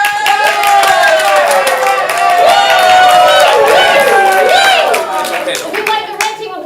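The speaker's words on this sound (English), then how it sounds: "Applaud now." Live comedy-improv audience cheering, whooping and clapping for the blue team, a loud dense crowd roar with shrill yells layered over steady applause that fades slightly toward the end.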